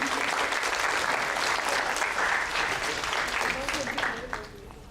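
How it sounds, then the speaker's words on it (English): Dense audience applause at a campus creative talk, a broad sustained wash of many hands clapping that fades slightly at the end, with a few voices mixed in. "can you guys give me a round of applause?"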